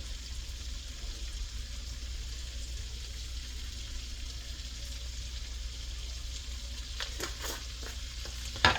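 Steady, even sizzling of boiled eggs frying in a pan, a close, constant crackle that carries on alone, with a few sharper pops and clatters near the end.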